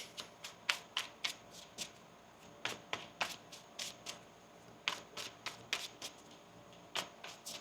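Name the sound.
shuffling tarot cards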